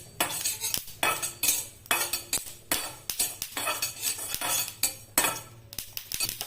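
A spoonful of flaxseeds roasting in a pan while making poha laddu, stirred with a metal spoon: rapid repeated scraping and clinking of metal on the pan, loud and close, with the seeds rustling between strokes and no talk.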